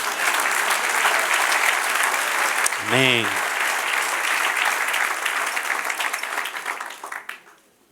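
A church congregation applauds with loud, continuous clapping. A single spoken word cuts in partway through, and the applause fades out near the end.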